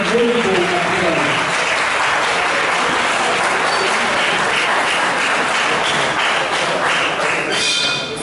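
Sustained loud applause from a debate audience welcoming a speaker, dense clapping filling the room steadily for several seconds before tapering slightly at the end.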